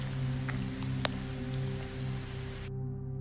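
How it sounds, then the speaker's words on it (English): Heavy rain hammers steadily against high windows in an old library, a dense continuous wash with one sharp drip or tap standing out, before the sound cuts away abruptly near the end. "Rain's louder now, hammering the high windows, thunder rolling somewhere far off."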